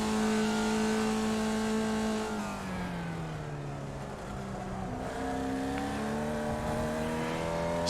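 A Formula Vee race car engine in the iRacing game revs hard at Laguna Seca, a loud steady buzz that drops in pitch, then climbs again as the throttle comes back on.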